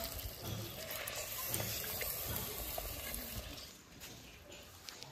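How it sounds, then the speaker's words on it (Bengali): Water pours into a mutton curry cooking in a handi as a continuous gushing splash that holds steady for about four seconds, then thins and quiets toward the end. "এবার জলটা দিয়ে দেবো। পাতলা ঝোল হবে।"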